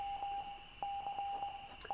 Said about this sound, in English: This is Morse code.